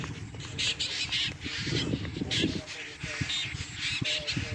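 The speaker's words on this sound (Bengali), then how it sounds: "এদিকে পাখিরা ডাকছে" Crows and other birds call over a green village field. The caws and squawks repeat loudly and fairly near, with an open-air background and some talk mixed in.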